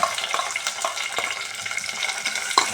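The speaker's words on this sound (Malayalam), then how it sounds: "വെളിച്ചെണ്ണ ചൂടാകുമ്പോൾ ഇഞ്ചിയും കറിവേപ്പിലയും" Ginger and curry leaves frying in hot coconut oil for Kerala sadya-style puli inji: a steady, busy sizzle with scattered small pops and crackles, close up, with no talking.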